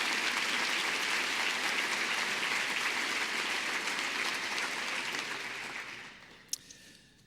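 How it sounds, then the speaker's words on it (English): Audience at a back-to-school event gives a sustained round of applause, dense clapping that holds steady and then fades out toward the end, leaving a few faint scattered claps. "if you could join me in a round of applause for all those folks that worked so hard this summer"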